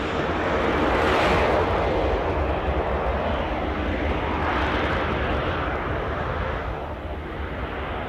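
A fixed-wing airplane taking off at Newcastle airport gives a steady, loud engine roar that swells and slowly fades over several seconds, with no talk.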